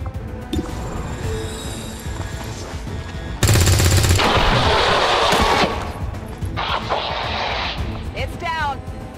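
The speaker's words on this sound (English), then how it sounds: "There's heavy fire in this zone!" Heavy gunfire in the XCOM 2 video game: loud bursts of automatic fire and blasts crowd the middle of the clip over a rumbling game soundscape, with voices calling out around them.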